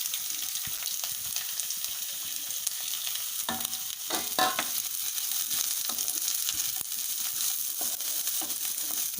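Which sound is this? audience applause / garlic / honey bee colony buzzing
garlic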